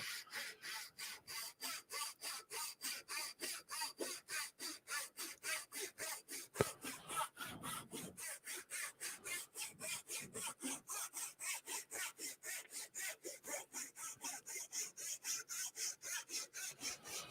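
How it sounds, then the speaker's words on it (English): A hand saw cuts through wood with steady back-and-forth strokes, about three per second, each a rasping scrape that throws fine sawdust, continuous and close with a brief pause and knock midway, no talking. "There's a lot of fine sawdust coming off this saw."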